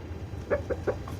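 Farmyard chickens give a few short clucks in quick succession, fairly close and soft, over a quiet background.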